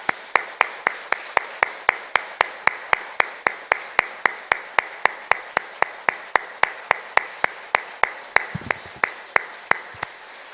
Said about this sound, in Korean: 우리 딱 10초만 영광의 박수와 격려의 박수를 함께 올려드리겠습니다